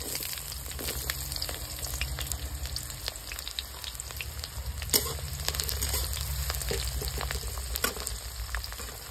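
Raw onion hitting hot, slightly burnt mustard oil in a pan for a Bengali fermented rice fry, giving a steady, loud, close sizzle and crackle throughout with a few sharper pops and no talk.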